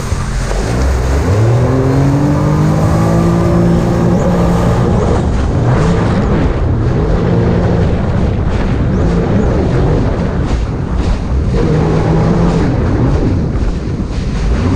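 A loud supercharged car engine roars and revs continuously, with rising and falling pitch sweeps and a faint supercharger whine riding over the motor as it accelerates.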